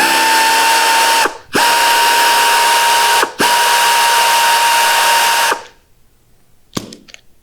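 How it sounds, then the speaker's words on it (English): A Dynabrade Dynaline inline air sander runs at a loud, steady high whine in three bursts broken by brief pauses, then winds down to silence, followed by a couple of faint clicks. "connect your airflow and make sure that the tool is operating properly, listening for any clunking sounds"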